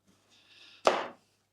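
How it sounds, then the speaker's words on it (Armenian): A knife cuts a potato in half on a kitchen board: one sharp, close chop after a soft scrape, then quiet. "Հիմա պետք է որ մենք կարտոֆիլը կտրատենք։"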